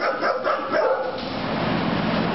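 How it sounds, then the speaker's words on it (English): Dogs bark at an animal shelter in Baldwin Park, California, a muffled, steady chorus of barking echoing around the kennels and continuing throughout. "Here's a quarantine dog."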